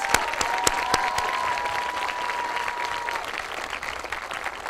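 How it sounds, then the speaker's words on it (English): A round of applause from the audience at a seventh grade school awards ceremony for honor roll students, steady clapping with a few sharp nearby claps, sustained throughout with a faint tone under it. "Let's give them a round of applause."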